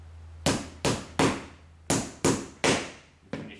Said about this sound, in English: Move your hand away so you're not going to hit it with a hammer.